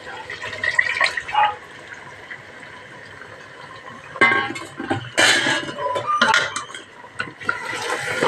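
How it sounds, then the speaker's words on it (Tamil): Reserved bone broth is poured into a pot of goat leg soup, a soft liquid splash mixed with clinks of pots and utensils in a home kitchen, the sounds coming in bursts over quiet background. "தண்ணி எலும்போட தண்ணி தனியாக எடுத்து வச்சுருந்தோம்ல, அந்த தண்ணி இதில் ஊற்றிடலாம்."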